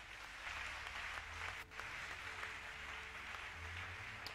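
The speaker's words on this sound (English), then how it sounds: "Can you clap to the Lord?" Church congregation clapping steadily together during a Sunday service in Cape Town, a dense, continuous patter of hands that briefly drops out midway before resuming at the same level.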